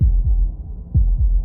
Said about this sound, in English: That was the sound of a heartbeat, followed by another, and another.